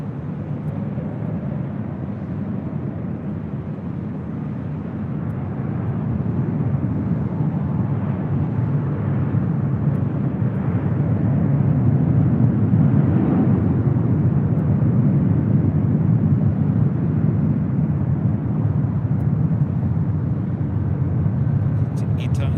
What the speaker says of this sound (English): Emirates A380 now cleared for departure on 24 left, heading back to Dubai